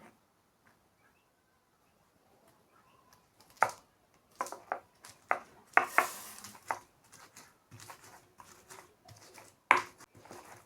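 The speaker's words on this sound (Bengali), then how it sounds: "এখন রসুন আর মশলা বেটে নেব।" Garlic and spices, including cumin, are ground by hand in a village kitchen. After a near-silent start, irregular scraping knocks and grinding strokes come in quick clusters, close and fairly crisp.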